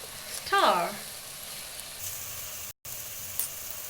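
Red peppers tipped into a hot frying pan and stirred, a brief close burst of sizzling and frying that quickly settles into a low, steady hiss.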